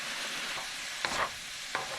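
Chili seasoning stirred into a pan of frying homemade chili, a steady close sizzle with a couple of brief spoon scrapes.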